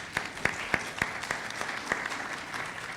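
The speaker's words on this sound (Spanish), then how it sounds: "Un aplauso también." An audience at a Mexican national social-policy panel forum claps in a burst of scattered, crisp hand claps. The claps are moderately distant and thin out gradually.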